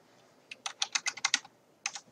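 Typing on an unfamiliar computer keyboard: a quick burst of about ten close, crisp keystrokes followed by a brief pause and a few more taps, with no voices.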